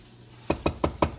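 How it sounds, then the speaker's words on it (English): Rice frying in oil in a pan for Spanish rice, heard as four evenly spaced scraping, sizzling bursts from stirring after a quiet start, close and fairly soft, with no talking. "you want to fry up the rice where it starts to turn like a golden color"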